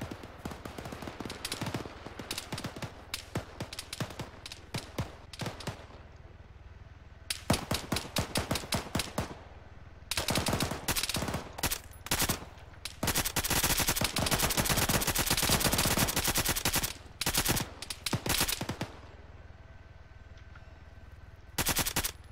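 Video game shooter gunfire: repeated bursts of rapid automatic fire, close and sharp, with short pauses between volleys and no talking.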